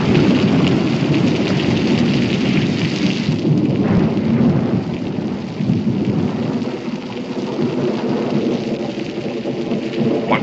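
Steady heavy rain pours down with deep rolling thunder rumbling through a thunderstorm, loud and continuous with no voices.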